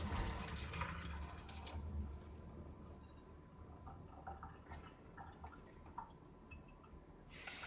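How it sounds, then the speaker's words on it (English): Water sloshes and drips as rice is swirled and rinsed in a bowl at a kitchen sink to wash off excess starch, a soft, continuous close-up splashing with a brief tap run at the start and end. "Maybe I'll swirl it around a little bit to try to get the excess starch off."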